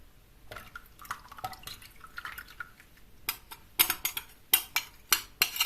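Thick homemade yogurt mixture poured into a pot, giving soft wet drips and splashes with clinks of metal and dishware that grow louder and sharper toward the end, with no talking.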